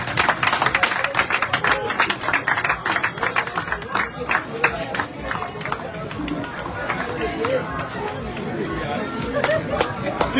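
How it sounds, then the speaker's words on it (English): A crowd at a youth forum in Totota City claps for a visiting political candidate: dense, sustained applause over ten seconds, mixed with a murmur of chatter and voices throughout. "Keep clapping, keep clapping."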